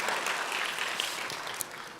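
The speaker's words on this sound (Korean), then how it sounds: "우리 하나님께 영광의 박수 돌리겠습니다" A church congregation claps together in a dense, steady burst of applause that fills the room and fades slightly toward the end.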